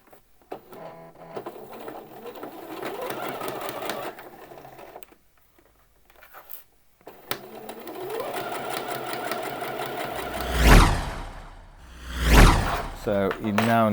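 A sewing machine stitches a trouser seam, running in two steady stretches with a pause between, followed by a couple of loud swishing handling noises close by.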